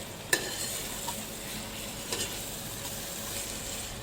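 Mashed potato bharta with salt is mixed lightly in a pan over a steady soft sizzle, with a sharp spatula clack near the start and a few quieter scrapes, close and without talk.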